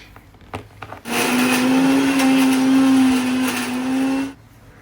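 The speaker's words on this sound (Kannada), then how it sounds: "ಮಿಕ್ಸಿ ಜಾರಿಗೆ ಬೆಳ್ಳುಳ್ಳಿ ಈರುಳ್ಳಿ ಮತ್ತು ಶುಂಠಿ ಎಲ್ಲನೂ ಮಿಕ್ಸಿ ಜಾರ್ಗೆ ಹಾಕಿ ನಂಗೆ ರುಬ್ಕೋಬೇಕು" An electric mixer grinder grinds garlic, onion and ginger into paste for country chicken curry. Its loud, steady motor whine starts abruptly, runs for about three seconds and cuts off, with no talk.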